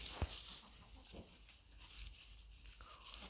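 Faint clucking of chickens grazing in a quiet farmyard on a sunny day, a few soft scattered calls against low background noise.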